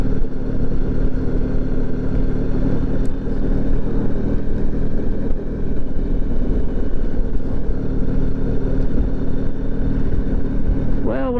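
A Honda ST1100 motorcycle runs steadily throughout with a continuous engine drone and low rumble, close and loud, with a brief rising whine near the end.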